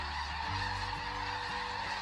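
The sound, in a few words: wild birds honking, considered crop pests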